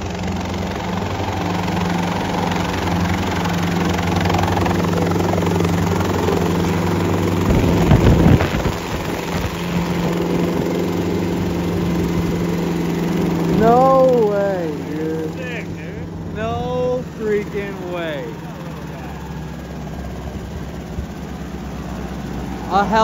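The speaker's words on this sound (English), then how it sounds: "This guy got a helicopter?" A helicopter engine drones steadily near and fairly loud with a low rotor hum, while people talk excitedly over it and wind buffets the microphone.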